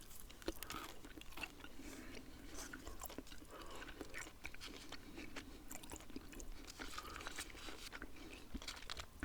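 Close, quiet chewing gum with soft wet clicks and squishes in an irregular rhythm, set against a faint background hiss.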